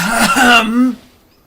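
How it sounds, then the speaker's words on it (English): A female professor clears her throat in a short, voiced 'ahem' with a couple of rough bursts that trail off, apparently performed by a voice rather than a natural cough. "The professor is just clearing her throat"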